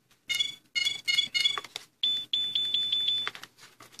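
Electronic base station prototype for a Traxxas Summit FPV setup giving a run of short, high, close beeps as it powers off, with a steadier beeping tone toward the end and no talk.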